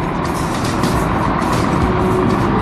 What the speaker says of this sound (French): Regarde le camion.